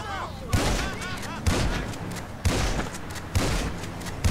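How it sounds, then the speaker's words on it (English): Four or five heavy gunshots strike a vehicle in a GTA roleplay game, spaced about a second apart, each a sharp loud boom trailing into a noisy decay. "Just shooting randomly at the vehicle"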